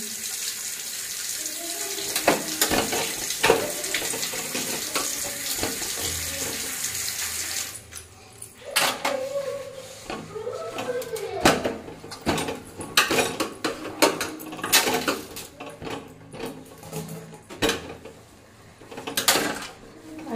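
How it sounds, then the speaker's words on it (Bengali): Water runs from a kitchen tap while a gas stove is wiped clean after cooking. A steady gush of water gives way to scattered knocks, clatters and splashes of wiping and rinsing, close by and with no talk. "রান্না হয়ে গেছে, এখন এই গ্যাস ট্যাসগুলো একটু মুছবো, পরিষ্কার করবো এখন।"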